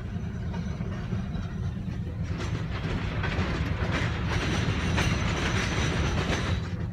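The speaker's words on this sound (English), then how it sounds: "I'm just gonna show y'all how slow this train is going." A slow freight train rolls past close by, a loud continuous rumble of rail cars with rhythmic clickety-clack from the wheels and faint squeals, no talking.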